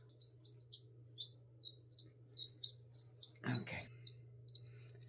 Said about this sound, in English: she's still chirping and crying a little bit